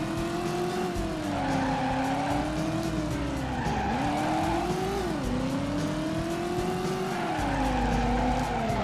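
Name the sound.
car driving and skidding in Driver PlayStation video game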